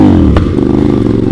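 A large motorcycle engine revs nearby with a loud, throbbing rumble and rapid pulsing.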